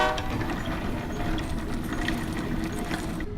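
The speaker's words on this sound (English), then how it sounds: "I think I hear the delivery train coming." A train rolls in steadily at middle distance, a continuous rumble with faint clanking and rail squeal, without talk.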